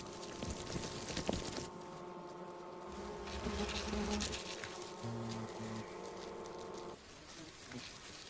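Giant hornets attacking a honeybee colony: faint, continuous buzzing of many insect wings, with a few louder passes, under a narrator's voice.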